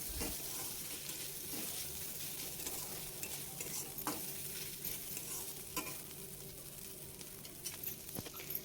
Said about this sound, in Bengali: এবার আমি দিয়ে দিলাম নারকেল কোড়ানোটা, দিয়ে আবার সুন্দর করে নারকেল কোড়ানোটা ভেজে নেব